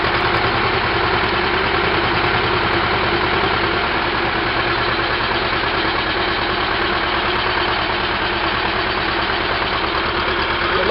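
A Belarus 250 tractor engine idles after a cold start, a loud, close, continuous diesel chug with a steady rhythmic low throb that settles slightly lower partway through, with no voices.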